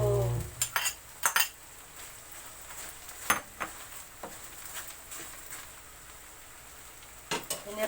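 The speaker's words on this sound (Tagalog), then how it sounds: "Pinirito ko na po yung hotdog ngayon." Hotdogs fry in a pan for menudo, a soft steady sizzle under a string of sharp metallic scrapes and clinks from a utensil against the pan, coming in short clusters.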